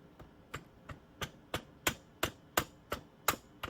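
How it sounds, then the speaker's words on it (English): A rubber hammer taps repeatedly at a steady rhythm while installing a power kit on an AEA Challenger big-bore air rifle, about ten crisp, dull knocks in quick succession, close by with no talking. "So rubber hammer, okay,"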